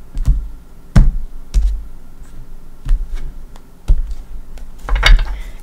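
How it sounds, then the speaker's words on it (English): Tarot cards being shuffled and cut by hand, a string of crisp, close slaps and riffling clicks at irregular intervals, with a busier flurry near the end. "I don't know why I'm shuffling the cards, but I am"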